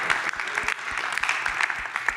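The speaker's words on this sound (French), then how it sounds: "Merci, on peut applaudir aussi." Audience applause at a film talk, a brisk burst of many hands clapping close and steady for a couple of seconds.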